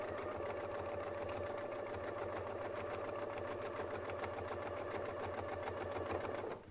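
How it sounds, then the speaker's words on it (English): A Westalee Spin E Fex 14 series sewing machine runs steadily, its needle stitching in a fast, even rhythm with a constant mechanical hum throughout. "As you listen to my sewing machine, notice that it has a really nice rhythmic sound."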